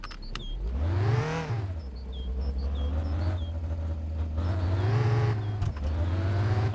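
A car engine in the My Winter Car video game, making 131 horsepower on a dyno, revs up sharply and then holds a loud, steady droning whine that climbs gradually, with no talking.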